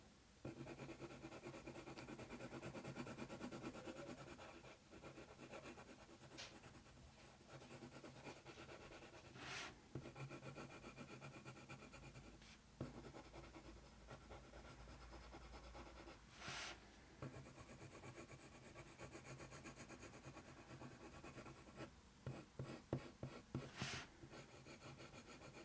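A pencil burnishes and shades across paper in faint, continuous rubbing strokes, broken by a few brief sharper scratches and taps.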